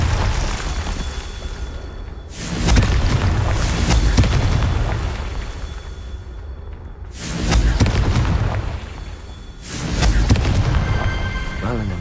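Repeated fire-spell explosions in the Hogwarts Legacy video game: three loud, broadband booming bursts near 2.5, 7 and 10 seconds, each rumbling on for a couple of seconds over steady game ambience.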